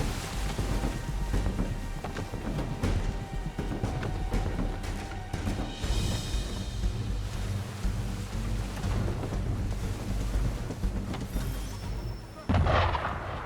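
Cannon fire from gunboats at sea in Assassin's Creed 3 booms out as repeated heavy blasts over steady wind and rolling water, with a loud crash near the end.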